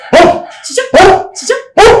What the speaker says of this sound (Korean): 네, 여러분들 스페셜 게스팅 우리 개 아미야 짖은 목소리를 들어보셨고요